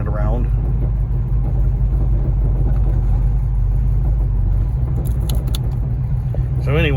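A 1986 Buick Regal with a hood scoop driving along, giving a steady, loud, close engine and road rumble throughout, with someone talking over it.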